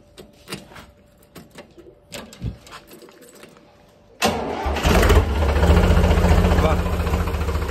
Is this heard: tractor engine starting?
yes